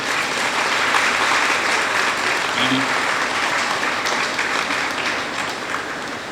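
A speech audience gives sustained applause at a political gathering, a steady, broad roar of many hands clapping that fades slightly toward the end.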